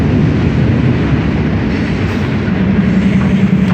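Freight train ride on a BNSF northbound heading out of Stockton, a steady loud rumble and rattle of rolling railcars throughout, close and continuous, with no talking.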